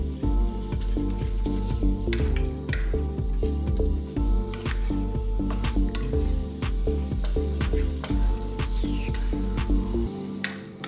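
Seasoned ground meat sizzling and frying in a pan over medium heat for enchiladas, with steady loud crackle and repeated scraping stirs throughout, no talking.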